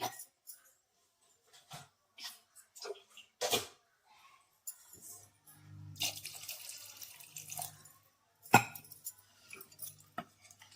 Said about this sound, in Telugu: ముక్కలు మునిగేదాకా వాటర్ పోసుకుందాం.